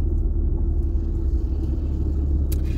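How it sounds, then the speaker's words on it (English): A truck being driven to a parking spot, a steady low engine rumble close by, continuous with little change and no talk. "So I got to drive the truck to the parking spot."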